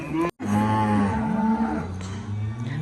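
A young cow moos loudly and close by on a cattle farm, one long, sustained low call that fills the clip after a brief gap at the start.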